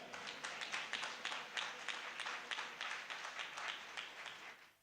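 Church congregation at a Sunday service clapping hands together, a steady dense patter of many hands sustained for several seconds at moderate distance, with no talk over it.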